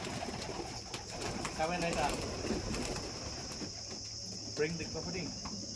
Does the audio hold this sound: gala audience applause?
no